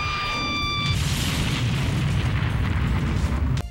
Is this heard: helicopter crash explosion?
yes